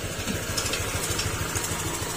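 Honda Click 160 motorcycle engine idling after an oil change and crankcase repair, a steady low pulsing putter, close and fairly quiet, with no talking.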